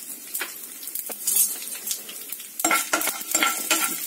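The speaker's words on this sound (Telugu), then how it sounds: "ఇప్పుడు ఎండుమిరపకాయలు, ఇంగువ, నేను ఒక 1/2 స్పూన్ వేసాను ఇంగువ." Hot oil sizzles loudly as dried red chillies and asafoetida fry with lentils in a tempering for nimmakaya pappu, with a spoon stirring and clinking against the pan.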